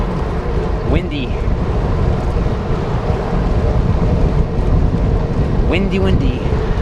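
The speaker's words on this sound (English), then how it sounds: "Windy." Strong wind buffeting the microphone in a continuous low rumble, with a couple of brief faint sounds rising above it.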